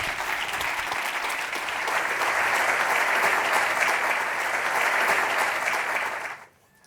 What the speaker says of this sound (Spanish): Así que un fuerte aplauso, por favor, para Ignacio Quintana.